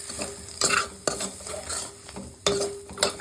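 A spoon scrapes and stirs spices in a frying pan with a few sharp clinks against the metal, over a faint sizzle.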